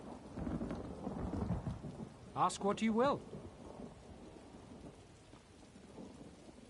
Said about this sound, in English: I could do without this damnable rain. It's been storming since we arrived, and it shows no sign of letting up.